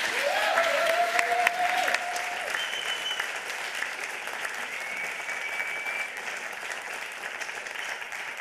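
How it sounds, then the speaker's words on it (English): Audience applause after a talk at the 28C3 hacker conference, a continuous steady round of clapping lasting several seconds, with a few faint tonal squeaks or whistles above it. "Give them a warm hand of applause."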